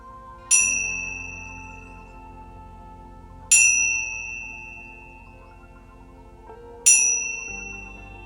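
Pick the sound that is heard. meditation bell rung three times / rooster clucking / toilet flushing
meditation bell rung three times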